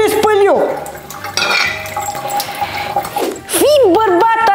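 Dirty dishes washed in a sink: running water and the clatter of plates and cutlery, close and fairly loud, with a voice talking over the washing.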